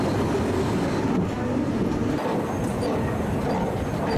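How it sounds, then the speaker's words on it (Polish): Steady, loud rumble of a Paris metro train in motion, heard from inside the carriage as a continuous low roar without clear breaks. "wsiedliśmy w metro i znów znaleźliśmy się w Paryżu"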